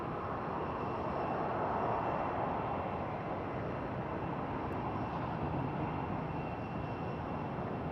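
An airliner's engines roar as a steady, broadband rumble at Phoenix Sky Harbor airport, filling the air continuously at moderate distance with no talk over it.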